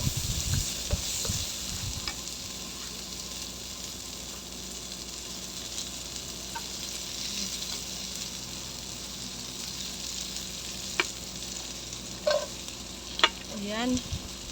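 Plenty of sliced red onion frying in a pan gives a constant hissing sizzle, with a few light spatula clicks and scrapes near the end as it gets stirred.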